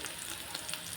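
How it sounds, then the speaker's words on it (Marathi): Potatoes frying in hot oil for a spiced potato curry, a short, fairly quiet burst of even sizzling crackle with small pops, no talking. "चला बटाटे फ्राय होत आहे"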